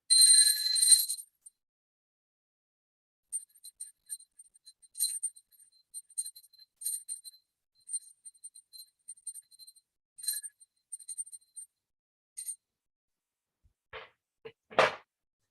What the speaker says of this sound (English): I'm offering the element of sound by ringing a bell around the chart 3 times.